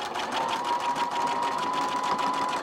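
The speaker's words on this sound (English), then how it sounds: "And then you just finish sewing off the top" Close up, a sewing machine stitches an angel wing top with a fast, steady, even whir and a constant hum for the full stretch.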